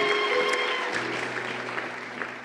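A church congregation applauds and cheers for the Lord, a dense wash of clapping that stays fairly loud and steady before easing slightly.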